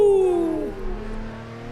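Race car engine in the sim racing game Assetto Corsa, a loud descending whine with harmonic sweeps as the revs drop, fading into a steadier lower drone.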